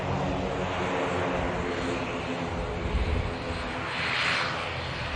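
An Icelandair airliner arrives at Manchester Airport, its engines giving a loud, broad, continuous roar that swells slightly as it passes.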